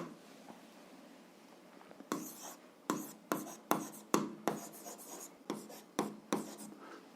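Pen writing out an algebra solution on paper, quick scratchy strokes in short bursts separated by brief pauses, close and quiet in a still room.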